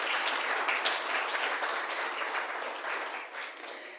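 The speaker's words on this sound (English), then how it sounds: "So maybe a small applause for them" Conference audience applauding, a dense, even wash of clapping held at moderate distance with no voices over it.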